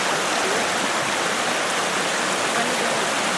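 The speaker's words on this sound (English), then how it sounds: "This beautiful stream." A stream on New Zealand's North Island flows toward a cavern with a dense, steady rushing wash that stays loud and unbroken throughout.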